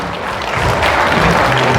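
Guests clap loudly together at an Armenian family celebration marking couples and grandparents' anniversaries, a dense, sustained burst of applause that swells and holds close by, with a faint voice or tone beneath near the end.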